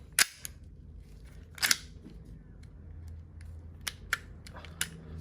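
Sharp mechanical clacks from a WE airsoft Glock 26 gas blowback pistol as the slide locks back, two strong snaps early on followed by several lighter clicks, close and clear over quiet background hum.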